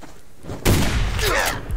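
Rifle shots in the cooperative survival game Subsistence, fired at an eagle: a sharp loud report rings out with a booming tail, with a second rattling shot soon after amid steady background ambience.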